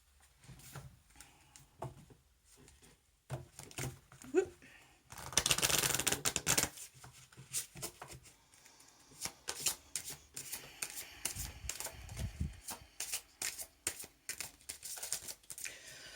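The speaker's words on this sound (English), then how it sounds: "next we will have a card from Sacred Light by Anna Stark" Sacred Light oracle cards by Anna Stark being shuffled by hand, quiet at first, then a long loud riffle followed by repeated papery flicks and slaps up close.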